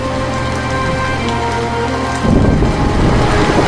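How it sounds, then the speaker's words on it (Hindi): Heavy rain pours steadily and loudly, then a deep rolling thunderclap breaks in partway through, swelling over the constant downpour with no voices. "फिर सुशील भारी वर्षा में छाता लेकर काम की तलाश में बाजार की ओर निकल जाता है।"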